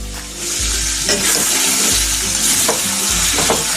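A chicken curry fries loudly in a pan as ground spice paste goes in, with a strong continuous sizzle and a few dull thumps and scrapes of stirring.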